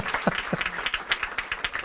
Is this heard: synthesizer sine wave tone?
no